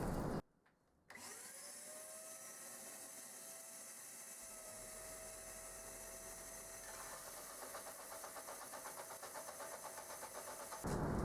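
A power sander grinding the rough cast base of a lathe tailstock flat, a continuous loud whirring drone with steady abrasive hiss, close up and unbroken after a brief pause near the start.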